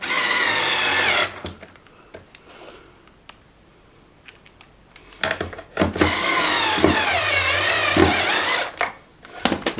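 A power screwdriver drives Phillips screws to fix the control panel of a Maidesite S2 Pro Plus standing desk: two loud, close whirring bursts separated by a quiet stretch of small clicks and handling sounds.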